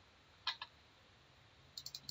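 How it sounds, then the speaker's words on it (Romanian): Computer mouse clicks, a quick pair followed after a pause by a faster run of three or four light clicks, close and quiet, with no talking. "închid comanda cu click dreapta de mouse"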